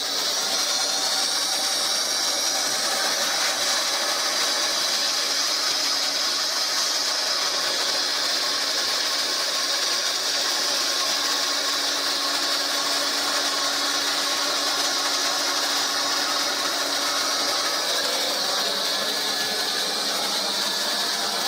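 Plastic welder feeding a very thin plastic welding rod while building a koi pond filter, giving a steady, loud, unbroken hiss and whine that holds level throughout with no pauses.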